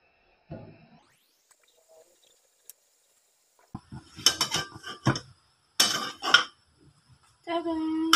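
Cutlery and dishes clink and clatter as toasted bread is moved from a pan onto a serving plate, in several short, close bursts separated by quiet pauses.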